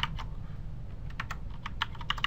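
Quick bursts of keystrokes on a computer keyboard as an address is typed, a few scattered taps then a denser run of clicks, close and clear.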